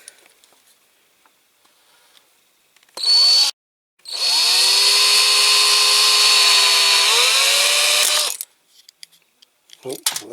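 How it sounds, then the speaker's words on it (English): A power drill bores out the roof rivets of a Corgi Toys Whizzwheels OSI DAF City toy car, one short burst and then a long steady whine lasting about four seconds, loud and close, with small handling clicks around it. "Okay, so I need to get my drill."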